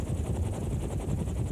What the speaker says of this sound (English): AH-64 Apache attack helicopters.